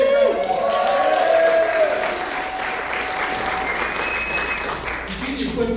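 An audience at a political club meeting breaks into sustained applause, a dense wash of clapping with some cheering and crowd murmur, while a voice talks faintly underneath.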